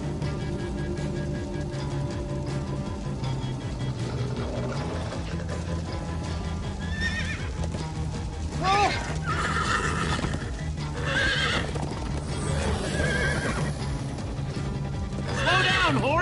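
A horse whinnies several times over rapid, rhythmic hoofbeats, with a steady music-like backdrop, in Minecraft: Story Mode Episode 4; the sounds are loud and close, with no speech.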